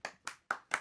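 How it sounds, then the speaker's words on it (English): Four sharp, evenly spaced claps from an audience, close and crisp with short decays. "Those claps are boos."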